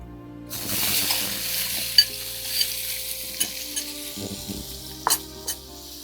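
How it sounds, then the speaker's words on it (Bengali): Shrimp frying in hot oil in a pan, a soft continuous sizzle with occasional pops and stirring clicks, close and fairly quiet. "চিংড়ি মাছটা প্রথমে ভাজবে"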